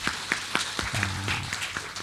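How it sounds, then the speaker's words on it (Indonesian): An audience claps at a civil servants' learning festival in Bojonegoro, scattered individual claps with a rhythmic pattern over a low murmur, and a brief voice sound partway through. "Nah, tepuk tangan untuk kita semuanya."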